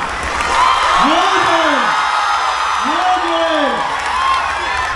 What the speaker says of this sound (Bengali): একবার জোরে হাততালি আর একদম গগন ভেরি চিৎকার